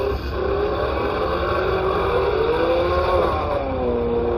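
A Buick H-body car with a 3.8 TBI V6 restarts and revs up, its engine droning and rising steadily in pitch, loud and close throughout.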